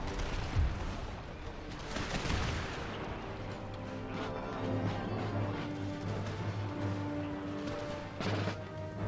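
Artillery and musket fire crackle and boom in the video game Empire Total War with the Empire 2 mod during a Great Britain campaign battle. Scattered volleys and shots run continuously over a tonal music bed.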